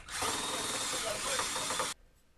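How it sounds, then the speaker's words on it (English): A circular saw cuts through the top of a wooden support leg on a DIY workbench, a loud close whine lasting about two seconds before stopping abruptly, with a faint ringing tail afterward. "I freehanded the cuts on the top of the support legs with a circular saw"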